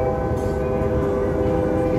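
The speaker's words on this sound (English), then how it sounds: "Yes, that's the local train." A local train passes along the Las Vegas Strip, a steady rumbling drone with sustained horn-like tones, distant and moderately loud.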